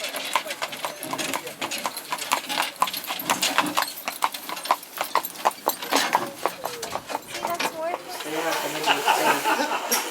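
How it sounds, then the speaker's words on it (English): Horse hooves clip-clopping on a road on Ireland's Aran Islands, a steady close rhythmic clatter of shod hooves continuing throughout, with people talking over it. "That's Bob Marley, the horse"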